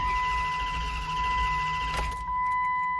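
A Dodge Durango engine cranks without catching, a steady starter-motor churn with a whine that runs for about two seconds, then stops abruptly, leaving quieter hum.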